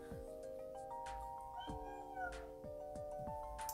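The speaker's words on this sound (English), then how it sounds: "wouldn't stop meowing, so I picked her up" A house cat meows repeatedly indoors, several faint, short calls heard over background music.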